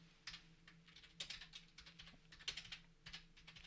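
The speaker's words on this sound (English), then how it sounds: "So what am I typing in here?" Clattering keystrokes on a computer keyboard, typed in quick irregular bursts at close range over a faint steady hum, with no voices.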